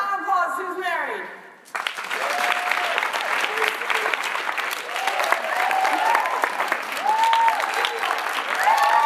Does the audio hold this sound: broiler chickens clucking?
no